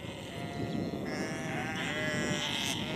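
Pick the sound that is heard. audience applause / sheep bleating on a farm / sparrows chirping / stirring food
sheep bleating on a farm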